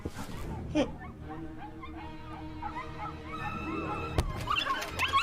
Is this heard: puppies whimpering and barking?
yes